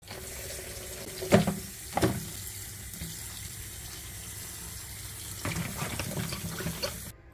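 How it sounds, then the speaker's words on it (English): A pot of water at a rolling boil for cooking jackfruit seeds gives a steady, close bubbling hiss throughout, broken by two sharp clanks early on and a busier stretch of clattering and splashing near the end. "the pot is now boiling, as you can see"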